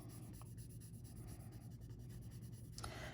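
Soft, steady scratching of a marker or ink blender coloring paper, touching up the wheels and propeller center of a stamped airplane in Night of Navy ink; faint, continuous strokes close up with no talking.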